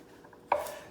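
A single sharp knife chop strikes through coconut flesh on a board, a brief clean knock after near silence, close and moderately loud.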